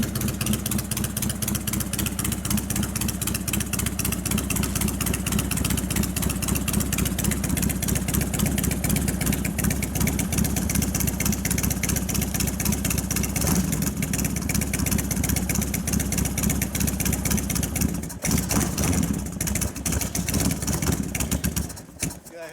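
A 1999 Harley-Davidson FXR2 with an Evo V-twin idles after a cold start, a loud, close, steady loping rumble that stumbles briefly near the end.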